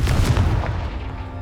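A Confringo fire spell going off in the video game Hogwarts Legacy: one heavy, booming blast that rumbles and fades over about a second and a half, with no voices.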